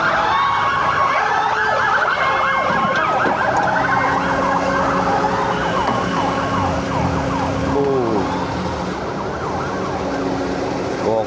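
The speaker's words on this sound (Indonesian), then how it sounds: "Ambulan." An ambulance siren wails loudly nearby, its rising and falling tones repeating over about eleven seconds amid traffic noise, with a faint voice under it.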